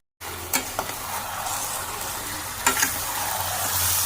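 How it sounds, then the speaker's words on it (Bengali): Chicken sizzling and frying in a pan with coriander powder, salt, chilli and turmeric, a steady close hiss with a few scraping stir clicks, no talk. "এবার ভালো করে কষে নেব।"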